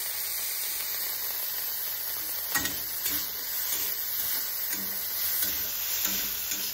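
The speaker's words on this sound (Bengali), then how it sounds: "চিংড়ি মাছ কেটে ভাজা বসিয়ে দিয়েছি।" Shrimp frying in a pan with turmeric, a steady close sizzle and hiss running throughout, with a few brief stirring knocks and scrapes partway through.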